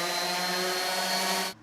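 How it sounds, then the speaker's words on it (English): Hand sanding of wood with 120 grit sandpaper, smoothing saw blade marks on a fence board: a steady, loud, continuous scratchy rasp held close, ending abruptly. "I'm just doing a quick sanding with some 120 grit sandpaper just to knock down some of the saw blade marks on it"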